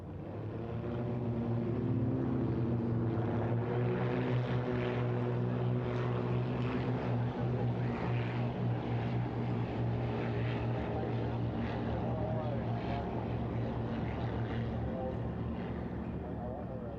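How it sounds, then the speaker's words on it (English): Five German-built Extra 300 aerobatic planes running their propeller engines before takeoff, a loud continuous droning roar with steady low hum, while a voice talks over it. "here are the 5 aircraft preparing for takeoff. They fly the Extra 300, German-built, very strong aerobatic aircraft"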